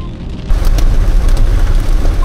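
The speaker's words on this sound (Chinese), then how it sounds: "下冰雹了，下冰雹" Hail and heavy rain hammer a car driving through a storm with lightning. A sudden dense, loud rattling drumming on the vehicle sets in and continues as a steady roar of impacts.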